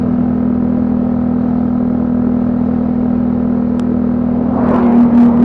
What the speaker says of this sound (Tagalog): Enjoy lang natin yung motor dahil bagong gawa.